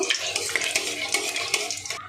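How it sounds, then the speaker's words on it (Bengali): A dried red chilli fries in freshly heated oil in a pan, giving a bright, steady sizzle. A spoon scrapes and stirs it in quick clicks throughout, close and loud. "শুকনো লঙ্কাটা একটু ভাজা ভাজা করে নেব"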